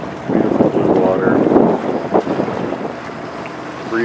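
Breezy wind at the seaside by a pier below the medieval walls of Rhodes old town, a steady broadband rush under busy surrounding sound, with faint voices nearby.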